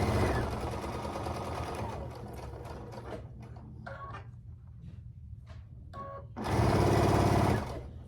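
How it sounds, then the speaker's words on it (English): Domestic sewing machine stitching a quarter-inch seam in quilt fabric pieces, a steady mechanical whir running for several seconds, pausing with small clicks and handling noises, then a loud final burst of fast stitching. "I'm going to sew a seam, 1/4 inch."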